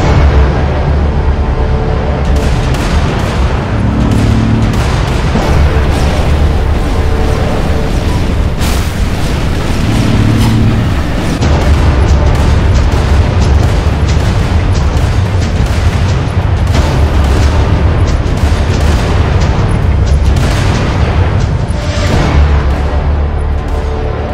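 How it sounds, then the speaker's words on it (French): Artillery fires at will in a game battle: loud, dense, continuous booming explosions roll on without pause, heavy and overlapping throughout. "Artilleurs! Feu à volonté sur ces spires!"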